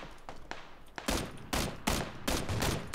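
Gunfire in PUBG, a battle royale shooter: after a quiet second, four loud bursts of rapid shots arrive about half a second apart, close by, with no talking.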